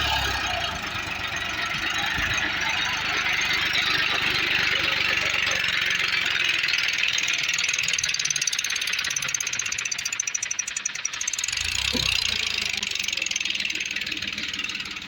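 Massey Ferguson 7250 DI 48 HP tractor running in a muddy field, its engine a steady loud drone with a hissing, rattly top that continues throughout with a few brief knocks.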